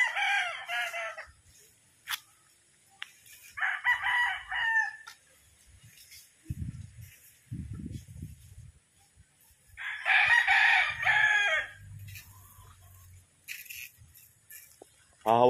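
Large brood stag roosters with white legs crow several times, loud nearby calls alternating with low clucks and quieter gaps in a farm setting.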